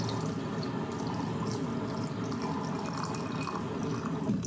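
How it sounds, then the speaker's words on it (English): Infused pickling solution pours into a jar of red onions and shallots with a steady liquid splash and trickle, close and continuous throughout. "we can now pour in our pickling solution that we've had infused overnight"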